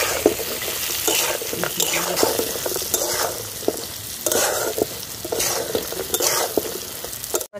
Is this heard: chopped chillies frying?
yes